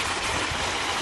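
Waterfalls splash beside a slide at a children's pool area in a holiday camp, giving a brief, continuous rushing and gurgling of falling water.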